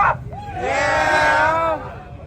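An outdoor crowd at the Busco Beach 2024 off-road gathering answers with a loud, sustained collective shout of "yeah": many voices rising together, holding for over a second, then dropping back to murmur.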